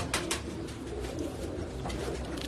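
A pigeon coos softly nearby, low throaty murmurs repeating over a steady background hum, with faint rustling and no voices.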